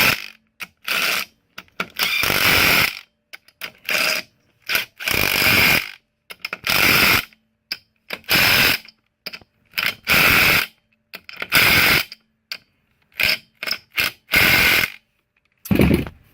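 Bursts of a power impact wrench tightening lug nuts on the rear wheel of a Pontiac Fiero, a rapid series of short and longer ratcheting rattles with brief gaps between them, loud and close, no voices.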